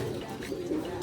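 Soft, low pigeon cooing rumbles steadily through the whole second, fairly close, with no talking.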